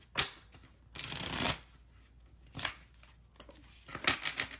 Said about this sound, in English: I'm gonna shuffle them